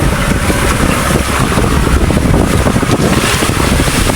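A passenger boat crosses choppy, rough sea far from shore, with loud continuous rushing water and engine rumble heavily mixed with buffeting wind noise on the microphone and no pauses.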